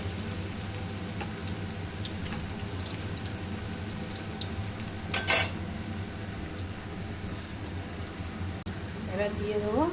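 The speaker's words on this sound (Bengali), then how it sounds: "রসুন কুচি, আদা কুচি, একটুখানি ভেজে" Minced garlic and ginger fry in a pan with a steady, low sizzle throughout, a brief sharper burst of clatter near the middle, and a voice talking over it.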